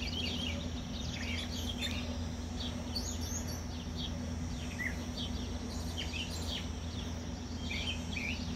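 Cardinals and finches at a backyard bird feeder on a morning chirp in quick, scattered bursts over steady outdoor background noise, with several overlapping calls at moderate distance.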